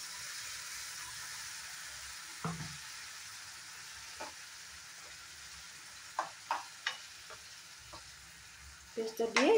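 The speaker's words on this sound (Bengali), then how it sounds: "পেস্টটা দিয়ে একটু সময় ফ্রাই করে নেব।" A paste of ginger, garlic, green chili and tomato frying in a pan over fried onions, a steady soft sizzle broken by several distinct scraping stirs, louder toward the end.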